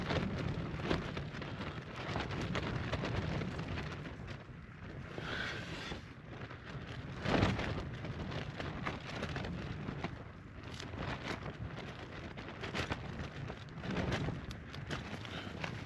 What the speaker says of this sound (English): I reckon it's one of the windiest nights I've had in a tent.